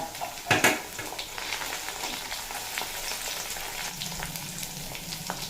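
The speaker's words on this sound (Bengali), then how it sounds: "আলু আদা রসুন লঙ্কা বাটা দিয়ে খুব ভালোভাবে ভেজে নিয়েছি" Potato fried with ginger, garlic and chili paste sizzles steadily in a pan, opening with a couple of sharp clanks of stirring against metal, then a continuous close crackle with no speech.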